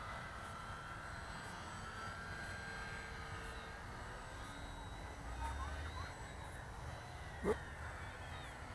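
A radio-controlled Yak-55 profile 3D model airplane flies slowly overhead. Its small engine gives a steady, fairly distant buzz that swells slightly near the end, with a brief sharp noise just before the close.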